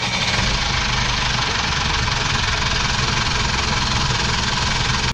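A boat engine runs steadily after a fuel blockage was cleared and the system primed, a loud, continuous close-up idle with a knocking low rumble throughout, no voices.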